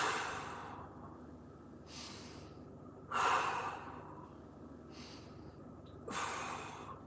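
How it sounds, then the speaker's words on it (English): Heavy, drawn-out breaths during a floor mobility exercise, three or four deep inhale-exhale cycles spaced a couple of seconds apart, close and fairly loud over a faint steady background. "Let's go 3 more big breaths."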